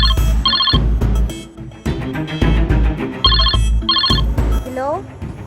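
A telephone ringtone sounds in short repeated electronic bursts during a call, partly masked by loud voices talking over it and other busy background sounds.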